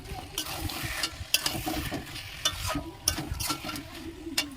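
Ground garam masala paste being stirred into a curry cooking in a pan, with steady scraping strokes and soft clacks of the utensil over a low sizzle, close and without talk.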